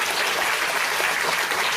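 Dense, steady crowd applause fills a women's conference hall at a BJP political gathering in Prithvipur, a loud, continuous wash of many hands clapping with no pauses.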